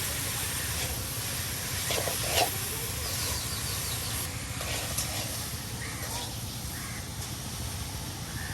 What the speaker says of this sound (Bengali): মানিক ভাই এই যে আপনাদের পাতাকপি ভাজি করে দেখাচ্ছে